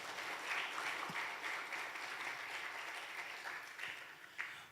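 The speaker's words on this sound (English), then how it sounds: "Let's give them a big round of applause" Congregation at a Sunday church service applauding, a faint, distant-sounding patter of many hands clapping, fairly even throughout with a couple of brief louder claps.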